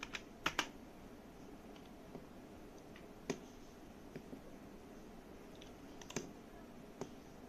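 Typing on a computer keyboard, a few scattered close clicks and taps with long gaps between them, quiet over faint background hiss.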